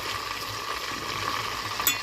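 Chicken wings frying in hot oil in a casserole pot, a steady close sizzle and crackle with a brief sharper pop near the end.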